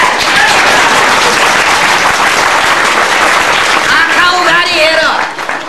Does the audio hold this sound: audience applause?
yes